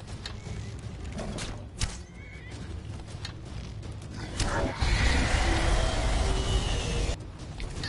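A horse neighs and whinnies over clip-clopping hooves and creaking mechanisms in the video game Skyrim, a mid-loud call rising out of steady game ambience without talk.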